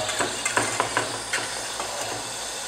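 Food fries in a pan with a steady broad sizzle, punctuated by soft scraping strokes of stirring at an irregular rhythm, close and moderately loud with no voices.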